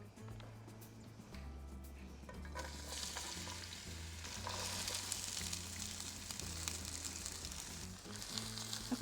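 Zucchini and corn kernels frying in hot oil in a pan, a steady hissing sizzle that swells as the vegetables go in, with occasional stirring clinks, quiet and unbroken, no speech.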